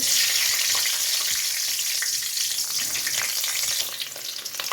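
Green chillies frying in hot oil in a pan while making curry, a loud, continuous hiss and sizzle close up, easing slightly toward the end, with no talking.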